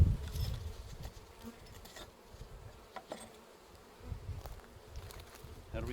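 Honey bees buzz and fly around close by during a hive installation, a steady insect drone with passing swells as individual bees fly near, with no talking.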